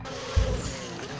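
GT race cars at Brands Hatch during a 2012 International GT Open race sweep past with a brief engine roar and a low thump over steady track noise and crowd ambience.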